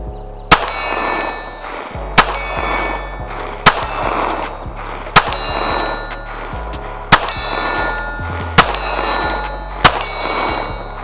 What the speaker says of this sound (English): we'll see if we can hit at this distance as well